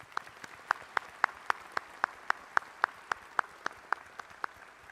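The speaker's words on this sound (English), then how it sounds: "Let's give him another round of applause." Slow, evenly spaced claps ring out one at a time at a university commencement, sparse and sharp against a quiet room, about eighteen distinct hand claps in a steady rhythm.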